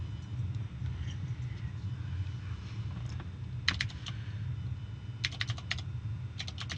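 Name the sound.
typing on a computer keyboard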